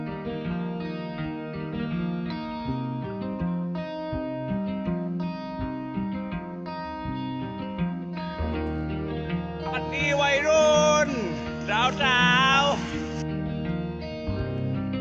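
A TikTok pop song with a steady beat and layered, effect-heavy vocals plays continuously as an iPhone ringtone, loud and clear.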